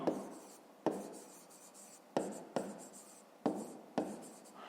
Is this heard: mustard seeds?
no